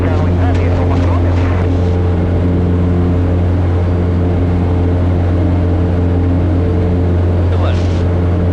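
A light aircraft engine runs at full power through a touch-and-go, a steady loud drone with strong harmonic tones throughout, with brief radio-style voices near the start and end.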